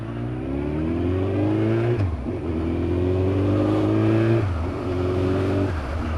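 Suzuki GSX1400 motorcycle engine pulls hard and close, its pitch rising through each gear before dropping sharply at every upshift, in three clear climbs with no speech.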